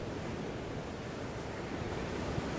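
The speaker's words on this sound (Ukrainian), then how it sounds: "Ніжні хвилі пестили берег, що холов за ніч." Gentle sea waves washing onto a shore, a continuous soft hiss of surf with light wind, steady and close with no voices.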